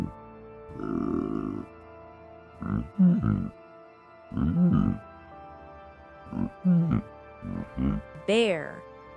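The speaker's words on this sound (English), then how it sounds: "A pig says," A pig makes a string of short grunts and squeals in irregular bursts, close and moderately loud. A higher squeal closes the sequence, with quiet gaps between the calls.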